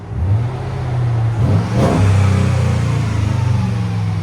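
Close, loud revving from a 2005 Mercedes CLK 55 AMG 5.5L V8 running a muffler delete, with a deep steady rumble, a quick throttle blip midway, then held revs.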